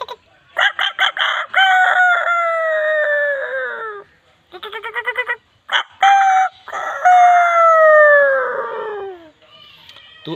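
A voice imitates a rooster: a few short clucks, then long, drawn-out cock-a-doodle-doo crows, a quick burst of clucking and another pair of loud, close crows, all alone with no other sounds.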